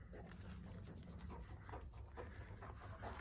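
Dog panting and softly whimpering outdoors on a cold day at a porch and stair repair site, quick rhythmic breaths close by with faint whines mixed in, and no talking.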